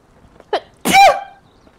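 An old lady in the video game Detention gives a single sharp, close sneeze, preceded by a brief inhaling catch and ending in a voiced, tonal burst.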